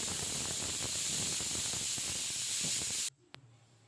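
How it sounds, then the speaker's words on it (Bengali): Pressure cooker boiling raw jackfruit, a loud steady steam hiss that stops suddenly, leaving a quiet room with a faint tonal ring and a small click. "প্রেসারটা একটা সিটি দিয়েই এঁচোড়টা সেদ্ধ করে নেব।"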